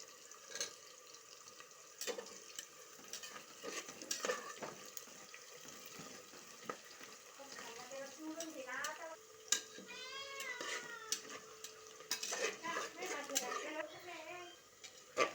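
Sliced onion and slit green chillies fry softly in a pan, with a faint sizzle and scraping stirs and occasional clinks, while a person talks over the cooking.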